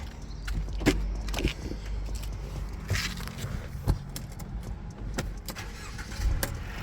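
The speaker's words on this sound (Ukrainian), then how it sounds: "Сам по собі двигун працює, як мені здається, дуже добре і непогано." A 2016 Mercedes-Benz GLC300 4MATIC engine runs at a steady idle close by, a continuous low hum broken by small clicks and light mechanical ticks.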